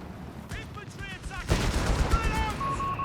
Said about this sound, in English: Got the artillery unleashed here.